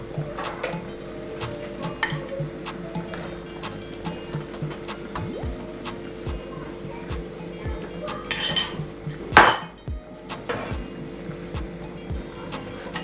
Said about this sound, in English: I'm gonna add my beautifully sauteed shrimp.